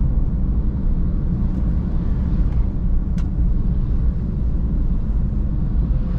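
Honda Brio driving in traffic after a shift into third gear, a steady low engine and road rumble from inside the cabin, even and moderate with no talk.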